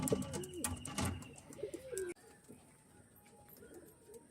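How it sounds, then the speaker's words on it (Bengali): Pigeons kept for sale, including dragon face birds and active flying pigeons, coo loudly and repeatedly at close range in the first half, then fall quieter. A faint background hiss remains afterward. "একদম ফুল অ্যাক্টিভ পায়রা"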